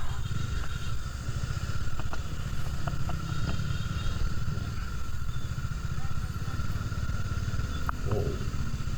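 A motorcycle overtakes on a road toward Kaybiang Tunnel, its engine a steady low drone throughout, loud and close, heard from the rider's own bike with wind noise.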